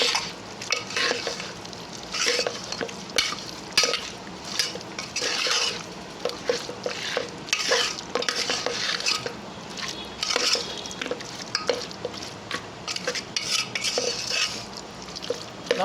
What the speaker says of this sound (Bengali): এইবার এই মশলাটাকে আমি মাটনের সাথে ভালো করে মাখিয়ে নেব।